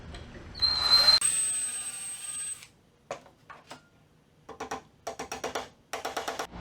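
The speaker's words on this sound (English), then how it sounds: "I don't want to split the wood, so I'm going to pre-drill them." A power drill pre-drilling wood for a kitchen chair repair whirs loudly for a couple of seconds with a rising whine, then stops. Short clattering taps and bursts of handling noise follow.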